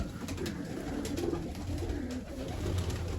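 A pigeon coos softly in a few low, throaty pulses against a quiet background, faint and fairly close, with no talking.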